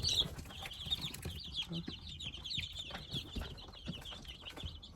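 Small chicks scurry about in their pen, with a busy stream of soft high peeping and cheeping over faint rustling and light knocks, all fairly quiet and close.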